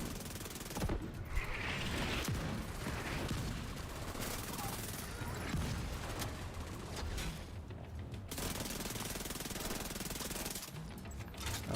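Mortar strikes and heavy gunfire in The Division 2 make a dense, continuous barrage of rattling bursts and crashing impacts, loud and chaotic throughout.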